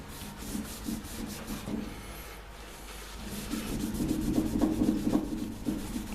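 An electric sander working over wood, a steady close-up abrasive whir with a rubbing rhythm that rises in loudness toward the end, with no talking over it.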